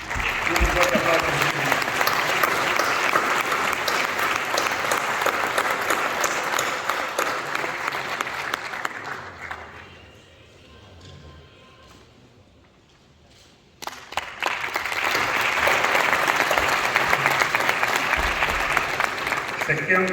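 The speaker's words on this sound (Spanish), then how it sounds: "Un fuerte aplauso." Loud crowd applause at an award ceremony during the Avileña-Negra Ibérica cattle fair and auction in Ávila, with clapping under talk, dropping to quiet for a few seconds mid-clip, then resuming just as strongly.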